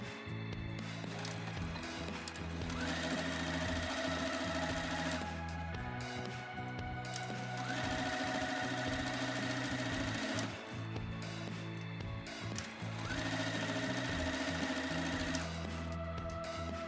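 A sewing machine hems the sleeves of a cottagecore-style dress, running in steady whirring stretches of several seconds each, separated by brief pauses, close and fairly quiet with no talking.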